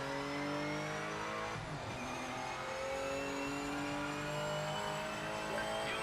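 A race car engine in the Project Motor Racing video game revs and drones steadily, with gear shifts and a brief tyre squeal, loud and continuous throughout without speech.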